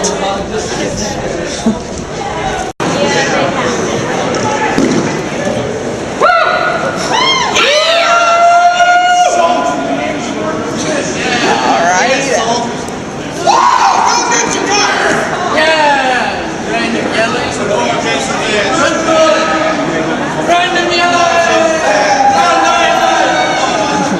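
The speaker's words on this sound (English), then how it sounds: "Random yelling." A large crowd yells and cheers at a live event, with loud overlapping shouts, whoops and bellows that swell and surge continuously, with a sharp bang early on and voices rising and falling over a steady roar.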